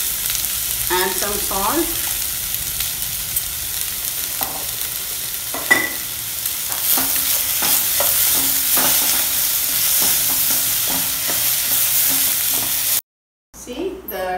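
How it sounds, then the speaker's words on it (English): Onions and a tomato frying together in a pan, a loud continuous sizzle with stirring scrapes and clatters, a brief cut near the end, and a voice speaking briefly over it. "again fry them all together for a couple of minutes."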